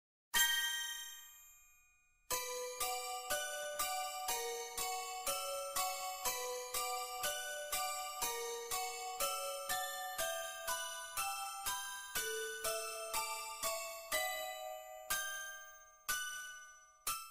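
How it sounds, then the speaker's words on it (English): Eerie chiming ringtone from a Takashi Miike horror film: a sustained bell tone, then a long run of evenly spaced, clear metallic dings in a repeating melodic pattern, bright and close with no voices. "Even the ringtone alone, which is freaky enough"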